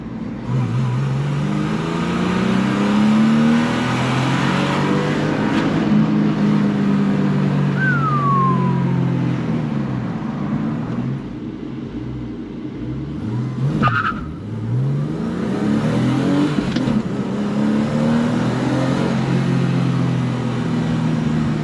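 A Porsche 996 Carrera 2 with a six-speed manual and limited-slip differential accelerates hard with traction control off, its engine revving loud and close through rising gear sweeps, easing off and then pulling again.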